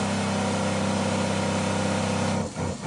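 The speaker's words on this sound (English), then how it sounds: "It shuts, the pressure builds up in the pump, it shuts itself off and it starts back up" An agricultural sprayer pump runs with a steady, loud droning hum, then falters and dips near the end as it cycles off and back on.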